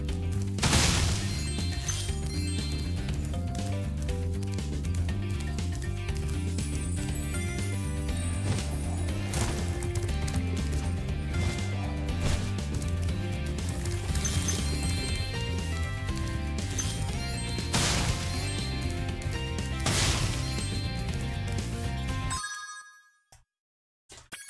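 Remastered soundtrack music from the video game Spyro 2 in the Reignited Trilogy plays steadily and fairly quietly, full-band and dense with bright percussive hits, running about twenty seconds before stopping abruptly.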